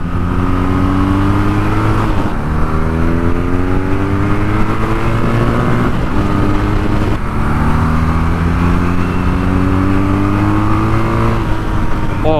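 BMW R nineT motorcycle engine running at speed, a loud continuous drone with engine pitch rising smoothly through the gears, two brief dips at the shifts, and wind noise underneath.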